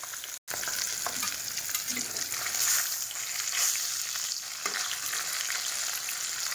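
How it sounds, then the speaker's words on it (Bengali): Fish fry in hot oil in a pan, giving a steady, close sizzle with crackling spits throughout, no voices over it. "মাছগুলো লাল লাল করে ভাজা হয়ে গেছে"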